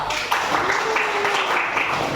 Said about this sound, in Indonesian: Tepuk tangan untuk David dulu